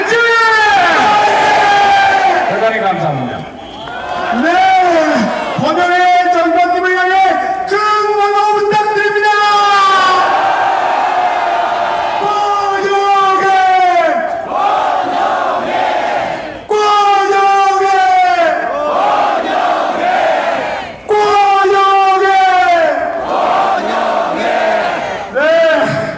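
Large crowd at a Korean street rally waving Taegukgi flags, roaring, cheering and chanting loudly in repeated swelling waves of massed voices that continue for the whole stretch.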